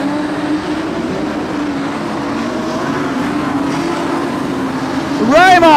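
Modified sedan race cars at Kingaroy Speedway during a prelim A-main, a loud steady engine roar with a rising whine near the end, under continuous race commentary.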